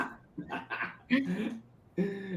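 A small dachshund gives a few short, quiet yips and barks indoors, close by, with soft whimpering sounds between them.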